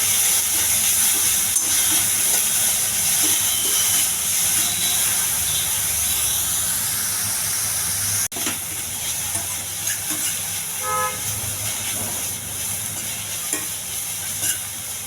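Boiled green peas frying in a pan with salt, turmeric and chili powder, giving a steady close sizzle and hiss throughout with a few stirring scrapes and knocks.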